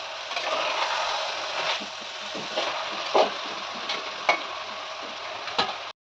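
Ingredients for egg gravy fry in a pan with a steady, close sizzle, broken by a few light clicks as a utensil stirs them, then the sound cuts off abruptly near the end.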